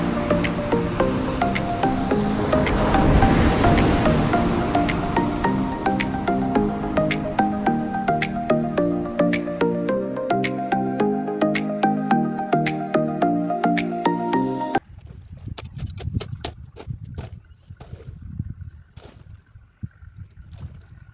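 Water is poured into flower pots: a continuous splashing, gurgling stream for most of the stretch, then stopping and giving way to scattered drips and trickles. No one speaks.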